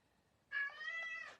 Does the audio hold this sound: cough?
no